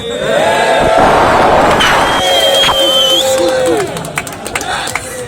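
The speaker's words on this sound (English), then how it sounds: "Give a cheer to the plant." A large outdoor crowd at a Hyde Park 4/20 cannabis rally in 2014 cheers and shouts loudly together, the roar holding steady before thinning into scattered calls and claps.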